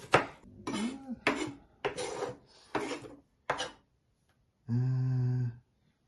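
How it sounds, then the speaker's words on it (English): Onions being chopped on a board with a knife for a vegetarian chili: five or six close, sharp knocks at an irregular pace, followed by a separate sustained tonal hum near the end. "Right, so we chop the onions as much as I can be bothered to."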